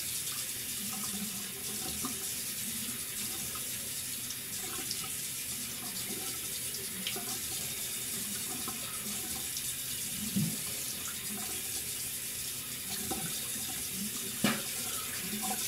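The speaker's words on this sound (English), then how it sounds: "I'm gonna wash, rinse my face." Tap water runs steadily into a sink while a face is rinsed after shaving, a continuous close splashing stream with occasional louder splashes and no talking.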